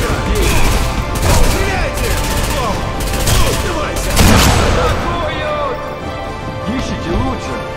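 Gunfire in Sniper Elite V2 crackles in rapid clustered bursts with sharp, loud reports and a heavier blast midway, mixed with voices and busy battlefield noise.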